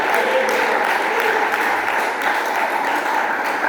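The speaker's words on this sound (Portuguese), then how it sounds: "Palmas para o Senhor Jesus." Church congregation clapping together during a service, a steady dense wash of applause that holds at an even level throughout without pause.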